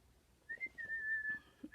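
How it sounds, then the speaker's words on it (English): Someone whistles a short tune alone in a quiet room: a few thin sustained notes, one long held tone in the middle, with faint breathy sounds underneath. "She loves when I whistle."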